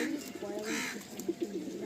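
Old-line Kolkata Giribaj pigeons, a male and a female, coo softly in low repeated pulses while a voice talks over them.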